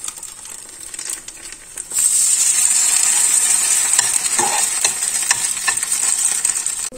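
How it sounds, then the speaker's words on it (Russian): Fish patties fry in a pan over low heat, giving a steady sizzle and hiss that swells louder after about two seconds and keeps going without a break, with no talking. "небольшими порциями выкладываем на сковородку"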